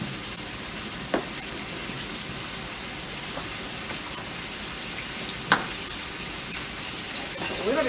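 Zucchini and sausage fry in a skillet with a steady, soft sizzle throughout, broken by a few brief clinks or stirring knocks near the start, middle and end.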